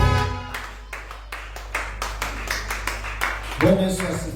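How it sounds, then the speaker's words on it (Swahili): A church congregation clapping for Jesus Christ in rhythmic, evenly spaced claps that grow a little stronger over a few seconds, over a low hum, before a voice cuts in at the end. "Pigia Yesu Kristo makofi."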